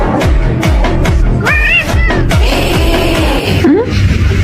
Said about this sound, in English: What is it doing? That's a cat.